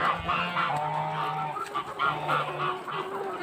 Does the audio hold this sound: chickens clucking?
yes